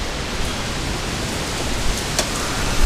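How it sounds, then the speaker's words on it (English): Steady rain falls outdoors as a continuous, close hiss, fairly loud, with a few brief louder spatters and no talking. "Now it's raining just a little bit harder"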